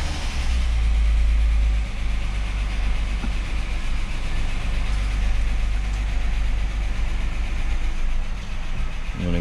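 Ford EF Fairmont engine running at a steady idle, a continuous low rumble with a heavier burst of low-frequency noise at the start, close by in a workshop setting.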